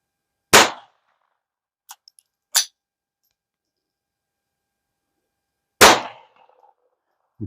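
Pistol shots through a Dead Air Mask silencer: three sharp suppressed reports with brief gaps, plus small clicks and a short muted pop between them, all close and otherwise quiet.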